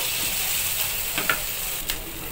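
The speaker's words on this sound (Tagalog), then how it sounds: "isunod ko naman yung bawang. Siyempre, halo-haloin lang din natin hanggang sa maluto na yung mga sangkap na nilagay natin" Chopped onion and garlic sizzle steadily in hot oil in a pan, close and bright, with a few scraping strokes of a spatula stirring through the frying.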